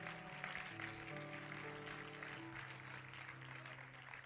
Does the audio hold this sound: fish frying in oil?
no